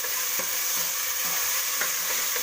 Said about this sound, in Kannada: ಬೇಳೆನ ಸ್ವಲ್ಪ ಎಣ್ಣೆಯಲ್ಲಿ ಮಿಕ್ಸ್ ಮಾಡ್ಕೊಳ್ಳೋಣ